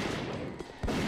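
Shotgun blasts in a modded Super Mario 64, a short burst of muffled booms ending in one louder, sharper shot near the close.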